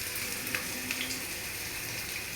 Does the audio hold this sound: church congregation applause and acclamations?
no